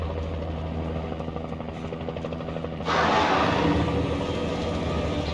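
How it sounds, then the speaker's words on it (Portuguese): A helicopter's rotor drone with game-style engine hum in Alan Wake Remastered, growing louder partway through, under busy background sound and faint chatter. "O helicóptero não."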